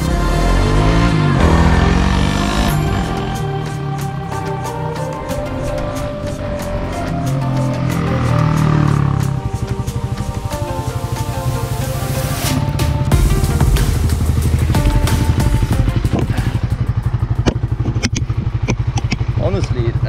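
A motorcycle pulls away slowly through a residential area, its engine droning and rising steadily as it gains speed, close and loud under continuous wind buffeting, with the rider talking throughout.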